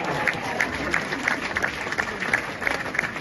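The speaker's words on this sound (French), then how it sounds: "on peut l'applaudir" A crowd at a ceremony claps steadily in a dense, even patter of applause that carries on throughout.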